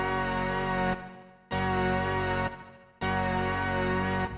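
Synth chords recreating a familiar sound, run through a 72 ms stereo Valhalla delay plugin: loud, bright sustained stabs repeating about every 1.5 seconds, each fading slightly before the next hits.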